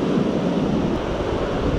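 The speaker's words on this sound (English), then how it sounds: "But that water coming down is just loud." Water pours down the Big Creek Spillway in a loud, continuous, close-up roar with no breaks.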